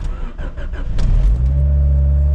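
An 8th-generation Honda Civic Si fitted with a Skunk2 Alpha header cranks briefly, fires and settles into a loud, steady, droning idle made rough by a faulty O2 sensor reading.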